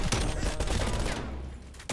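Assault rifle fire in a video game, a loud burst of rapid shots up close followed by a quieter tail.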